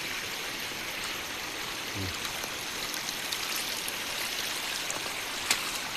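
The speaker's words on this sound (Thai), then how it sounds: "เพราะว่าน้ำมันไหลเลยตามทาง" Steady broadband rush of water running down a narrow, eroding forest trail, continuous and close, with a faint brief click or two over the flow and no talking.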